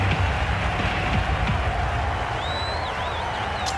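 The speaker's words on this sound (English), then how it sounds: "They will receive now the warmest of receptions from this crowd for a supreme display of batting." Cricket crowd at a Kolkata stadium cheering and applauding the batsmen after an India vs West Indies quarter-final innings, a broad, fairly loud wash of applause and cheers with a whistle near the end.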